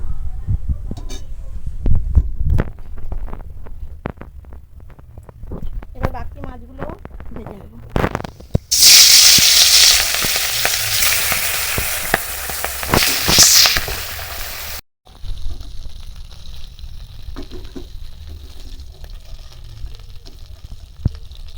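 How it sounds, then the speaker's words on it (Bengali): Pieces of rohu fish fry in hot oil, producing a loud, bright sizzle for several seconds in the middle, with someone speaking and kitchen clatter before and after. "বাকি মাছগুলোও আমি একইভাবে ভেজে নেব এইভাবে একদম লাল করে"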